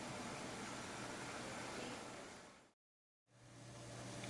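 A small motor turns a freshly finished fly rod on a drying rig, giving a steady, quiet hum with a low drone that cuts out for a moment and then resumes.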